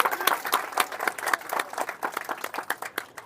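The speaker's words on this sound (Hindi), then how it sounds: "एक बार जोरदार तालियों के साथ स्वागत।" Crowd at an outdoor election rally in a ward clapping to welcome a candidate, a steady patter of many hands at moderate loudness lasting throughout, with no voices over it.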